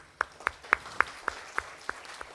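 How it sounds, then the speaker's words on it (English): Small group clapping during a question-and-answer session at a spiritual retreat, about eight sharp, evenly spaced claps in slow rhythm, close and distinct against a quiet room. "I think she needs a clap for this."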